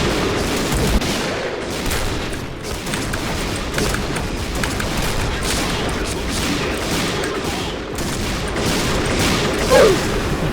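Dense, rapid gunfire from the shooter game Point Blank, with overlapping bursts and booming shots filling the whole stretch at a loud, constant level.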